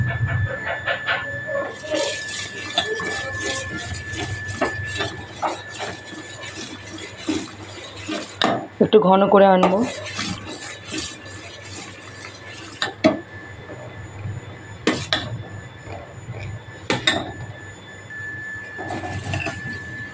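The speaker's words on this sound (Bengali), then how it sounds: "আমি আস্তে আস্তে আস্তে আস্তে নাড়াবো, হাতা দিয়ে দিয়ে দিয়ে একদম" A ladle scrapes and knocks around a pot of boiling milk for payesh, with soft repeated clinks and stirring strokes spread out over time while someone talks now and then.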